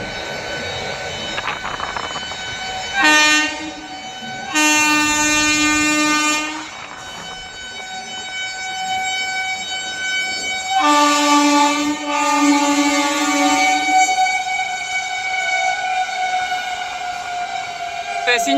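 A special train passes close alongside during a crossing on the Anand Vihar route, sounding its horn in several long, loud blasts over a steady rumble of rolling wheels.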